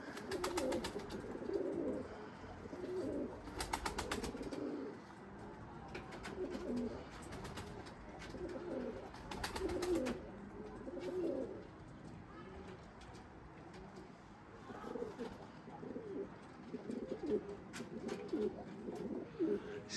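Homing pigeons coo softly and repeatedly throughout, low and throaty, with faint background noise and occasional voices.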